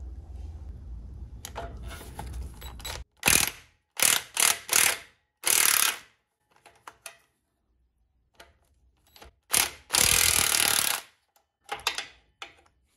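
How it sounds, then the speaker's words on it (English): A socket and ratchet loosen 14mm nuts on a boat or jet ski trailer winch, with several close, sharp bursts of rapid ratchet clicking separated by quiet pauses. "use a 14 millimeter socket and ratchet to remove those nuts"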